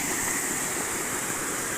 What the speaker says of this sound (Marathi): बेफाम पाणी आहे मस्त पाणी वाटतंय